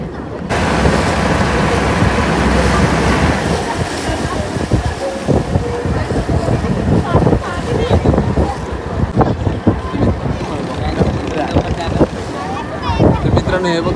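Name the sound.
small sailboats racing on the sea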